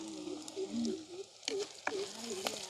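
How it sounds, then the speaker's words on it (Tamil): Sliced onions and green chillies sauté in a pan during village cooking, giving off a low, steady sizzle with occasional stirring scrapes. Faint tonal background sounds run underneath. "வெங்காயம் பச்சை மிளகாய் எங்களுக்கு நல்லா வதங்கிட்டுது"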